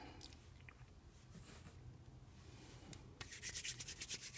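A kneaded eraser or similar tool works across a pencil drawing to lift excess graphite, producing soft, faint rubbing and dabbing, followed by a brisker patch of scratchy strokes near the end.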